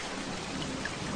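Rain falling steadily in a video game map, a dense even patter with no voices over it.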